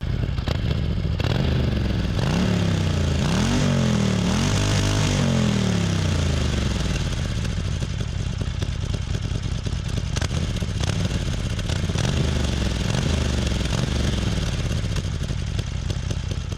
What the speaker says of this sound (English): Let us hear the exhaust note of this bike.